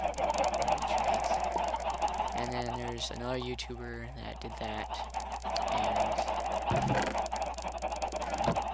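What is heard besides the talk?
chickens in a coop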